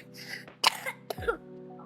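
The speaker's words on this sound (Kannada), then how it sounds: "ಎಲ್ಲೋ ಕೆಮ್ಮು" A boy gives a few short coughs and throat-clearing sounds, close by and alone, against a low background hum.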